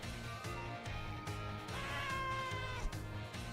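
A pet cat meows with its mouth closed, giving a series of muffled, moaning hums close by, repeated roughly every half second in a steady pulsing rhythm, one slightly higher and longer near the middle.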